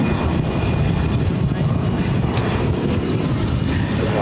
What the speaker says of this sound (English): taking off to Charleston on the A319